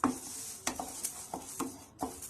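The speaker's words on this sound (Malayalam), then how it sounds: "നമ്മളിത് അരി വറുത്തെടുക്കുകയാണ്." Washed and dried rice being dry-roasted in a pan for cashew rice laddu, heard as a steady gritty rustle with repeated sharp scraping stirs roughly every half second, close and fairly loud with no talking.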